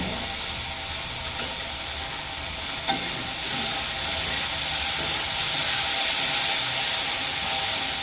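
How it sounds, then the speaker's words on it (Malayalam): Food fries in hot oil in a home kitchen, a loud, steady, close-up sizzle and crackle that holds throughout with a faint brief clink partway, and no talking. "എണ്ണ കിടന്ന് ഇത് ഫ്രൈ ആകാം"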